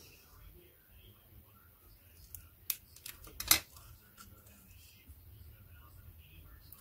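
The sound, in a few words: cutting paper card with scissors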